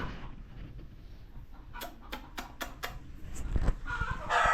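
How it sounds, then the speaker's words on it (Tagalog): Egg-laying chickens cluck and squawk nearby in a short burst of sharp calls, with farmyard rustling and scraping underneath. "Kasi yung mga manok namin yan. Nangingitlog."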